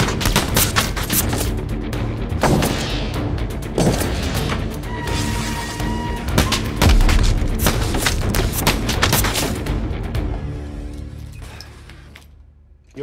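Rapid bursts of gunfire in a dramatic shootout, loud and close, with repeated sharp cracks and booms over a rumbling music-like bed, fading off toward the end.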